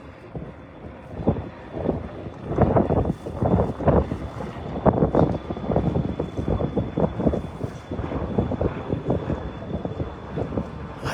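A boat travels on the Hudson River, with steady engine and water rumble and wind buffeting the microphone throughout, moderately loud and continuous with no talk.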